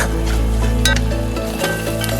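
Clams sizzling in a pan with pepper powder and salt, a steady loud frying hiss with occasional scraping stirs, no voices present.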